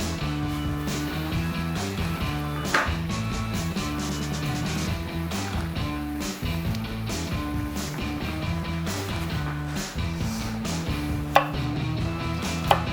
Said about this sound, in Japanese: それとパプリカ、赤が入るといいですね。 これをこのように乱切りに。